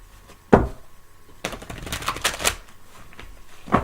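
A large deck of cards shuffled by hand, a sharp riffle burst early, then a longer stretch of rapid ruffling clicks and flutters, close and fairly loud, ending with another brief snap.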